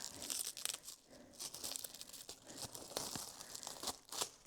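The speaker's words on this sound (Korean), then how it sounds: "새 제품에 비닐을 벗기는 행사를 거행하겠습니다" Protective plastic film being peeled off a new motorcycle hand guard deflector, with close, crinkling and tearing crackles in quick irregular bursts, fairly quiet and without talk.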